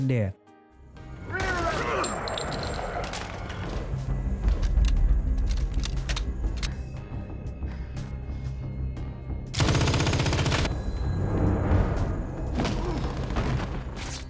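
Sustained automatic-weapon gunfire during a film shootout as mafia fighters shoot at a house, dense crackling bursts and booms layered over music and other action sound, with a louder volley near the end.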